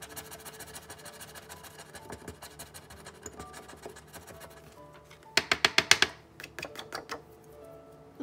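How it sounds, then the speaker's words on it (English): A pair of dice rolled on a tabletop during a cash savings challenge game, giving a quick burst of sharp rattling clicks and bounces that stands out over softer handling noises. "I'm gonna roll the dice."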